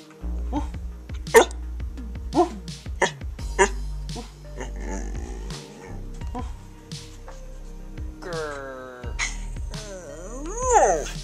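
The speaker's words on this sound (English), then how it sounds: "His woof woof sounds like a furry conversation." A Border Collie at home gives short, sharp barks and yips scattered among talkative vocal noises, fairly close, with people talking in the background.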